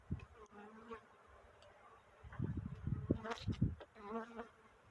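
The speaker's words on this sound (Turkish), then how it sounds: "Burada da bir sinek girmeye çalışıyor." Flies and bees buzzing around the entrance of an Anatolian honeybee hive in early spring, a close, wavering drone that swells in loud bursts during the second half of the clip.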